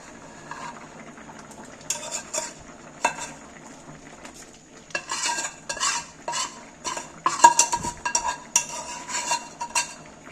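Chicken khichdi with meat being stirred in a pot, a spoon scraping and clinking against metal in repeated uneven strokes over a faint sizzle, close by with no talking.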